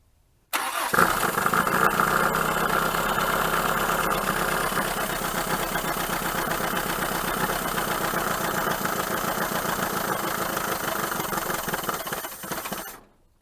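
A 1980 Dodge Colt Challenger engine with its auto choke half set cranks and catches, running roughly at a steady loud idle for about twelve seconds before it dies away and cuts out.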